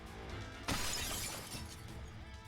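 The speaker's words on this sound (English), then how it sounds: "The tempered glass in front of you suddenly explodes" Tempered glass shattering in the video game Path to Nowhere, a single sudden loud burst with a crackling spray of fragments that fades over about a second, alone without speech.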